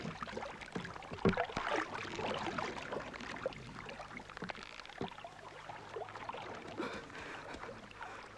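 A rowing boat moves across a river in a wartime drama setting, with soft, irregular water splashes and oar strokes lapping steadily close by and no talk.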